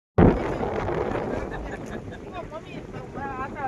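Gusty wind buffets a microphone outdoors on a very cold day, a steady broadband rumble and hiss that continues throughout while people talk over it.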